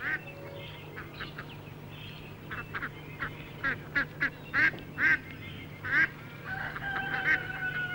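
Ducks quack in a series of short, honking calls, several bursts clustered in the middle and a few more near the end over a low steady hum.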